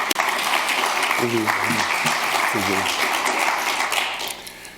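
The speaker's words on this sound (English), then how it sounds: "Can we give them another round of applause?" An audience applauds continuously, a dense wash of clapping with a few voices calling out briefly underneath.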